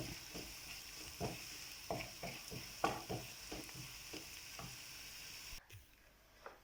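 Pork pickle being stirred in hot oil, with a soft background sizzle and a series of irregular spoon scrapes and taps against the pan, fairly quiet, fading abruptly near the end.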